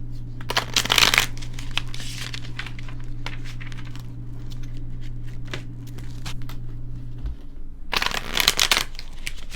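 Tarot cards shuffled for a Celtic cross spread, two loud riffling bursts at the start and end with steady quieter card handling and a low hum in between, close by.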